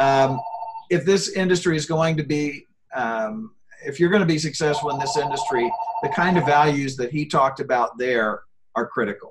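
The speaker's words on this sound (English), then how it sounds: "I apologize for that phone, but it's going to have to ring." A telephone rings in a conference room at a science symposium, its steady electronic tone sounding twice beneath a man's continuous speech.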